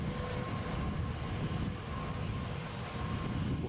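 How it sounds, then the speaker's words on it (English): An inbound easyJet airliner arriving from Hamburg at Edinburgh airport, a steady, broad engine roar at moderate distance filling the short stretch without a break. "So inbound, we have an easyJet from Hamburg."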